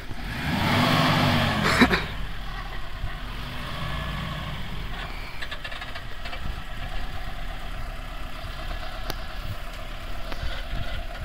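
A Maruti Gypsy running in a forest: a steady mid-pitched engine drone with rougher revving at the start, close and continuous, with a brief sharp knock early on.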